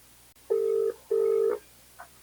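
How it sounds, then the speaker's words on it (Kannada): Two loud, steady electronic ringback tones sound as a mobile phone call is placed, each lasting under half a second with a short gap, followed by a faint trailing blip against quiet background hum. "ಫೋನ್ ಮಾಡ್ತೀನಿ"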